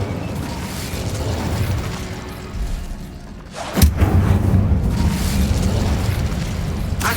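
Incendio fire spell cast in Hogwarts Legacy, a whooshing rumble that drops away, then a sharp burst into a sustained roaring, crackling blaze.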